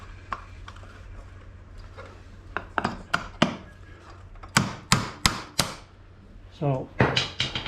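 Sharp hammer blows on rusty parts of a Honda HS928 snowblower gearcase: scattered taps at first, then a run of loud, evenly spaced metallic strikes near the end.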